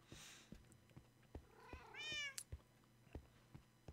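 A Minecraft cat gives one short rising meow, set against faint background game sounds with soft regular clicks or footsteps, no voices.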